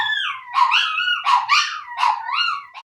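Two fluffy little dogs let out a rapid run of high, yelping barks and whiny howls, close and loud for about three seconds with no talk.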